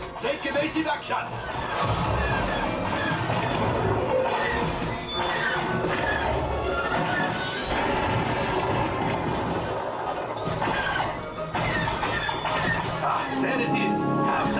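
Rumbling, clanking train-chase effects in the Millennium Falcon: Smugglers Run ride at Disney's Hollywood Studios, loud and continuous with crashes, under riders' shouting and talk throughout.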